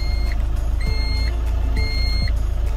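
A steady electronic PTO engagement warning alarm on an Iveco Daily with a Versalift SST40 repeats in regular pairs over a constant engine idle, fairly close and clear.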